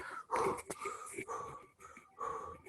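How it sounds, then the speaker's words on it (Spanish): Moderate mouth panting, a rhythmic series of short breathy huffs and wheezy exhales, close and fairly quiet, with no voices. "ya empezamos con un jadeo moderado por boca"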